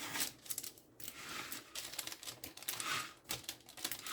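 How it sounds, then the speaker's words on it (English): Scissors make quick, faint, crisp snips in uneven succession, cutting around a loaf of bread dough close by. "So I'm just going to make some snips all around,"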